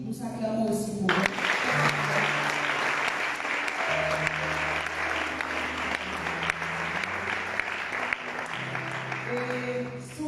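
A church congregation claps together in sustained, dense applause for about ten seconds, loud and close, with music or voices carrying faintly underneath.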